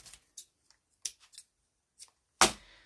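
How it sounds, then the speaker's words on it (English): Scissors snip thread while making a stamp folio: a handful of sharp, close clicks spaced by silence, ending in one louder, crisper cut. "snip that off, and then I'm just going to tie it"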